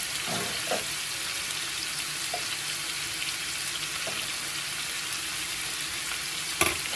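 Bacon, ground beef and pork sizzle and fry loudly in a skillet, a dense continuous hiss broken by a few scraping stirs and a sharp knock near the end.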